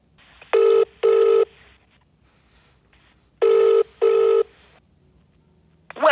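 A telephone line rings during an outgoing call: two paired double-ring bursts heard through the handset, clear and evenly spaced with quiet gaps between them.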